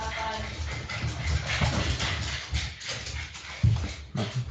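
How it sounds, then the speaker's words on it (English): Dogs bark and whimper excitedly up close, with scattered yips, whines and shuffling that rise and fall in irregular bursts. "My dogs are going crazy."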